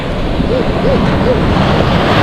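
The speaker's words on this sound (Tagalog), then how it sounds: "Ayoko ng ganyang alon." Ocean surf off the beach at Pundaquit, Zambales: a steady, loud, broadband roar of waves and wind that fills the whole clip, with no speech over it.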